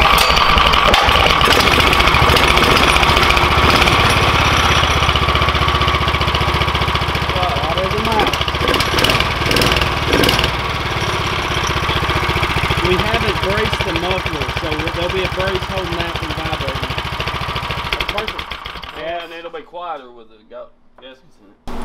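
A DuroMax 440cc gas engine fitted into an EZGO golf cart runs at a loud, steady idle with a rough, throbbing tone and an exhaust leak at the head and muffler flange, then cuts off near the end while someone talks.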